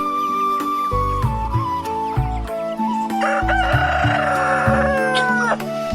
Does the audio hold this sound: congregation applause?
no